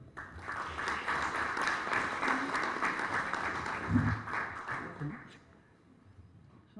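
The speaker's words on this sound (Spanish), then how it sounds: "a quien recibimos con un fuerte aplauso." Audience applause at a lecture and book presentation on judges and evidence at the Pontificia Universidad Católica del Perú, a dense steady clapping for about five seconds that fades out, with voices mixed in.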